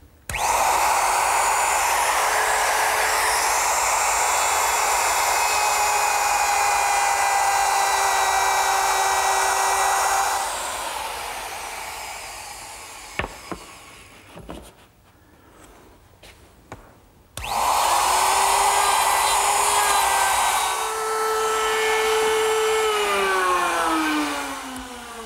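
Router fitted with a 3/4 inch dovetailing bit cutting wood, a loud sustained high whine running for about ten seconds, a short quiet gap with light clunks, then the steady whine again.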